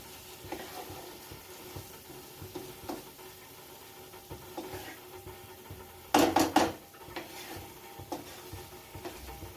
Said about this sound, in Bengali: এবার এটাকে আমি ভালো করে কষিয়ে নেব মশলাটাকে